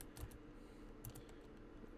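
Keystrokes on a computer keyboard while writing Lua code in Roblox Studio, including backspace presses, come as a few faint clusters of clicks over steady background hiss, with no talk.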